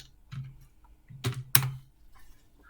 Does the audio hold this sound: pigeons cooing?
no